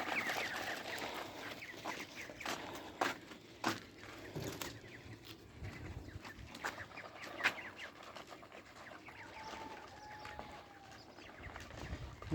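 White chickens clucking and calling softly in the early morning while being fed broken bread scraps and feed, with scattered nearby clucks and occasional sharper calls over a quiet farmyard background.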